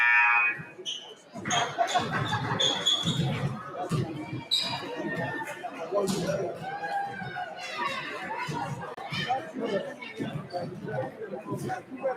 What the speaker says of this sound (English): That's the buzzer sounds, and everybody get ready to come back.